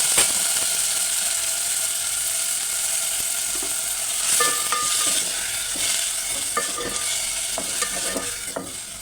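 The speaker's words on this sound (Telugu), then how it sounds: "ఆయిల్లో ఆనియన్స్, పుదీనా, పచ్చిమిరపకాయలు వేయించుకుందాం" Onions, mint and green chillies fry in hot oil in a pan, a loud, continuous close sizzle with scattered spatula scrapes and clinks throughout, no speech.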